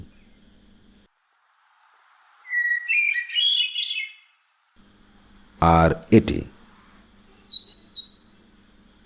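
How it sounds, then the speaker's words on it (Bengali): A wood thrush sings two separate tonal phrases, clear and fairly close, over a low background hum, with a short spoken remark between them. "এই উট থ্রাস পাখিটি আশ্চর্যজনকভাবে একই সাথে এই দুটি আলাদা সুরে ডেকে উঠছে"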